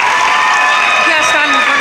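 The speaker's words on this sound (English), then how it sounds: "Give yourselves a round of applause, Stingrays." Students at a high school assembly break into a brief, loud burst of applause and cheering, a dense wash of crowd noise with voices mixed in.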